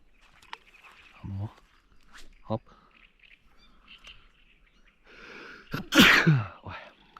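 Outdoors on a fishing trip, one loud, sharp sneeze bursts out near the end, with bird chirps and a few soft sounds before it.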